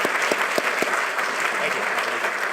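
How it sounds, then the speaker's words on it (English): Steady applause from a symposium audience after a keynote speech, dense clapping filling the room at an even level throughout. "Let's give Michael a round of applause"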